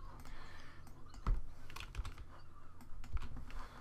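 Key presses on a computer keyboard while working in PolyCAD curve-editing software: several quiet, irregular clicks and taps spread across a few seconds over a low, steady background hum, with no talking.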